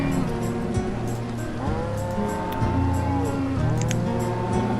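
Cows in the video game Banished low in drawn-out moos over a steady ambient bed, several calls overlapping at moderate distance.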